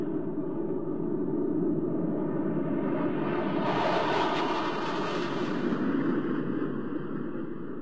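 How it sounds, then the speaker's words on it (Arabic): Pakistani JF-17 fighter jets passing in formation at a flypast: a continuous loud jet-engine roar that swells in brightness midway and holds steady, with no voices. "التشكيل التالي هو لطائرات JF-17 التابعة لجمهورية باكستان الإسلامية."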